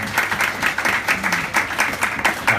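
Wedding guests cheer and applaud after a speech, a brief burst of dense, fairly close clapping with excited voices mixed in, holding steady throughout.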